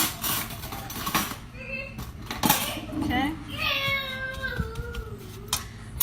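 Cutlery clinks and a spoon clattering against dishes in a home kitchen while making candied pecans, brief close knocks and scrapes with someone talking in the background.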